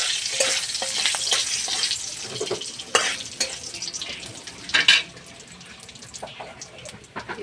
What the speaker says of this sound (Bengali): এটা আমি নেড়ে ভেজে ঝোলটা ঢেলে দেবো